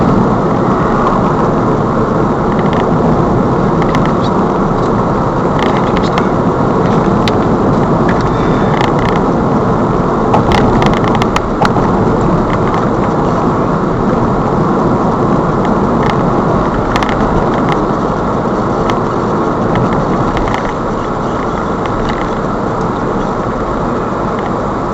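Car driving along a road on a practical driving test in Irvine, a steady continuous rumble of engine and road noise held at an even level throughout, with no talking.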